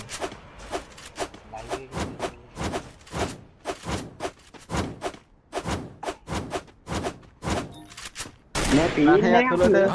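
Rapid bursts of gunshots in the mobile shooter game Free Fire, a loud, irregular string of sharp reports for several seconds, ending in a dense clash of louder noise.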